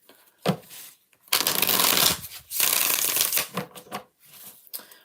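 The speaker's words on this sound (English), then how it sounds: "2 more shuffles." Tarot cards shuffled by hand in quick riffling bursts, a short flick then a long continuous rustling stretch followed by a few softer broken shuffles, close and fairly quiet with no talk.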